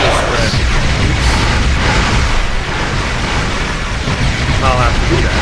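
Starship weapons fire in a Star Trek Online space battle against infected enemies, a dense, steady roar of booming explosions and energy bursts filling the scene, with a player talking over it.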